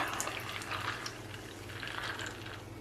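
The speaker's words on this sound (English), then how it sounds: "pour our tea" White tea, an Oriental white variety, poured into a glass, a steady, close liquid stream splashing and trickling for a few seconds with no talk over it.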